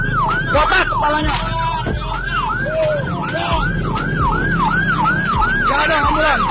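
A loud, close ambulance siren wails in a rapid repeating yelp on a road in Bogor, with traffic noise and scattered voices in the background.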